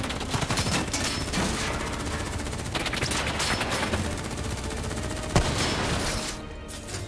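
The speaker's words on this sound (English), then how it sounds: "Who's shooting?" Sustained gunfire in the Call of Duty: Black Ops III video game, a dense, loud fusillade of rapid automatic shots with one sharp bang near the end, no voices over it.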